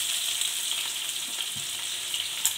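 Chopped onion fries in a pan on a high flame, a steady hiss of sizzling oil with small crackles and a faint stir, heard alone without talk.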